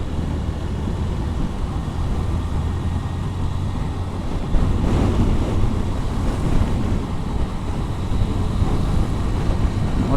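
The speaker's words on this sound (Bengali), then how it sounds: "প্রচণ্ড বাতাস।" Strong wind buffets a motorcycle rider on the Dhaka–Chittagong highway, a constant loud rushing roar of wind noise across the microphone, steady throughout with a gustier surge midway and no talking.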